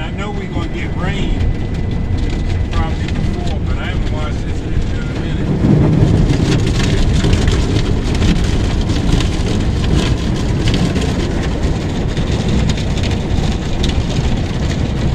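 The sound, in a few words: water spraying on car in car wash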